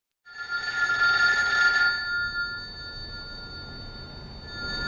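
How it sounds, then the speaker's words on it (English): A telephone bell rings once in a steady, bright burst that fades into a lingering hum, heard alone with no voices. "the phone rings"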